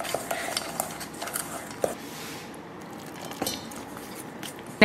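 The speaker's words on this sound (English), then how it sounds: "Stir that together until you have basically a dough formed" Protein ball dough of pecan, vanilla and a couple tablespoons of water stirred in a bowl, giving steady scraping and clinking of a utensil against the dish with soft squishing, close and fairly loud, no talk.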